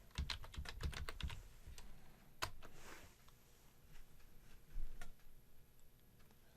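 Password entered on a computer keyboard to switch a programmable safety relay system into test mode: a quick run of close keystroke clicks, then a few sparser, softer taps and one sharper press, no talking.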